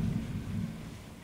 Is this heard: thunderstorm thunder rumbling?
yes